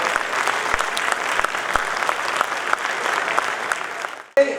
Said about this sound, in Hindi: आप सभी से निवेदन है कि इनका सम्मान करें तालियों के साथ